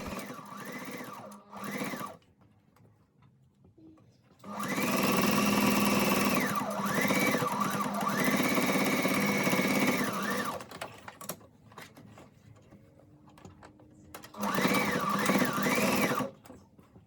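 Sewing machine stitching fabric seams on a crossbody bag, running in several bursts of steady whirring with speed swells, separated by quiet pauses and small handling noises, close and fairly loud.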